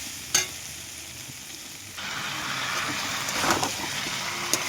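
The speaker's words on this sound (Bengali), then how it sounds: "চিকেনটা 2 মিনিট হয়েছে আমি দিয়েছি, আর একটু কষতে হবে।" Chicken being sautéed in a pan gives a steady sizzle with stirring scrapes. It grows louder about halfway through and carries a few sharp clinks.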